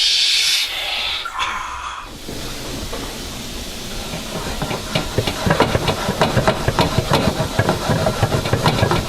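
Meatballs frying in olive oil in a pan, a loud steady sizzle and hiss with crackling pops that grow busier toward the end while the food is being stirred.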